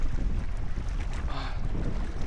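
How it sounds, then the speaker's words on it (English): Gusty wind buffets a small fishing boat out on the water, a steady loud rush of broadband noise with low-end rumble across the whole moment, no talking. "Damn, it's windy."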